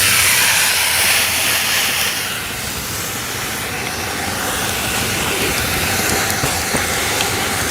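Beef ribs sear meat side down on a Blackstone flat top griddle with a steady, loud, broad sizzling hiss that holds throughout, dipping slightly midway before rising again, with no voices.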